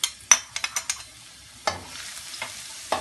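Grated garlic frying in about six tablespoons of oil while being stirred, with sharp scraping taps of a spoon in the pan and a soft sizzle underneath, close and moderately quiet.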